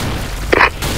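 A grenade explodes in a video game, a single short, loud boom bursting out over steady background noise.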